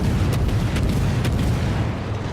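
Torpedoes launching and explosions in a naval warship game, heavy rumbling booms layered into a continuous loud roar with a few sharper bursts on top.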